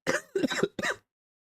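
Three quick, close coughs in a row, harsh and loud, followed by silence.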